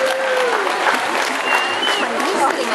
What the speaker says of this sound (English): Let's have a small round of applause. Just let the tigers know you do appreciate their involvement.